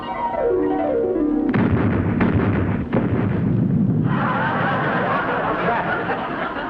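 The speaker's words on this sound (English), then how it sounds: "I think a fuel drum exploded" A fuel drum exploding at a military base under attack: a falling whistle gives way to a loud, booming blast and then a sustained, heavy rumble.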